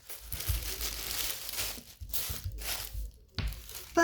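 Gift wrapping paper being crumpled close by, loud crinkling bursts in several bouts with short pauses between them.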